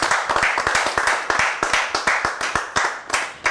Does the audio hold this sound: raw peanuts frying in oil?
no